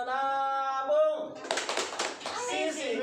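A training group performs a rhythmic clap chant, with a voice leading before a burst of patterned hand claps and more speech under and after the clapping.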